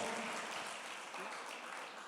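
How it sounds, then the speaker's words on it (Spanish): A church congregation claps in praise of the Lord during a sermon, a faint, steady wash of applause heard at a distance for a couple of seconds. "Dele el aplauso al Señor"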